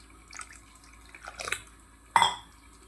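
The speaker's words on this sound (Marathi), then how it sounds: "आता आपण पाणी ॲड करूया" Water is poured into idli chutney, giving a few short splashy drips and pours near the start and middle, then one louder splash, all close and with no voices.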